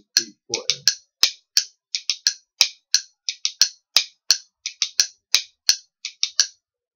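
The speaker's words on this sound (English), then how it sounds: "for beat 2 in the right hand, we're gonna play a forward whip, but for beat number 4, we're gonna do a backward couplet" Rhythm bones played in a steady four-beat pattern, with forward whips and backward couplets: sharp, bright wooden clicks in quick pairs and single strokes, close and clear, with a few faint low sounds early on.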